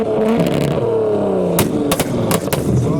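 A car at an outdoor car show pulls out and drives off, its engine revving and rumbling nearby with clattering and scraping bursts toward the end.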